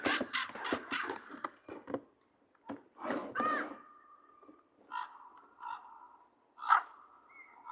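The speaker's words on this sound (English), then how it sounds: "Let's listen to the call of a raven." Raven calls: a series of hoarse, croaking caws, some with a gurgling, throaty quality, repeated in irregular bursts at moderate volume with short gaps between, heard alone without talk.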